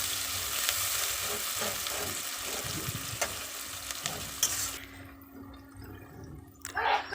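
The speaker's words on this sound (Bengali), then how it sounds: "পেঁয়াজটা ভাজা হতে থাকুক" Onions sprinkled with salt fry in hot oil in a pan, giving a dense, loud, steady sizzle with occasional stirring scrapes, which drops abruptly to a quieter crackle partway through.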